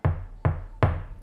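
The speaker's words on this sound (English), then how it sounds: "knock at your door." Three firm knocks on a wooden door, evenly spaced and close, each a dull thud with a short decay.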